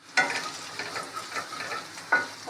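Boiled, peeled potatoes frying in a pan with ginger-garlic paste on low flame for dum aloo biryani: close, crackling sizzle broken by several scraping stir strokes, two of them sharp and loud.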